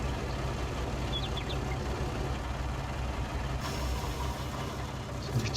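A tractor engine in the Farming Simulator 19 video game runs with a constant low, dense rumble, steady and close throughout with only slight shifts in tone, and no talking.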